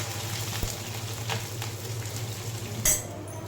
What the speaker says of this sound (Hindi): और अब प्याज डाल के मैंने इसको चला लिया।